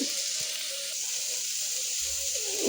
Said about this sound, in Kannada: ಅದಕ್ಕೋಸ್ಕರ ಚಿಕನ್ ಸಾಂಬಾರಿಗೆಲ್ಲ ಫ್ರೈ ಮಾಡ್ಕೊತಿದ್ದೀನಿ